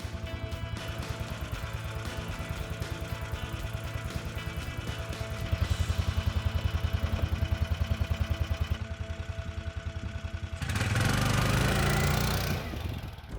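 Homemade snow sled powered by a lawnmower engine riding through deep puffy snow, a continuous chugging small-engine drone that rises in loudness and revs harder near the end, with no talk.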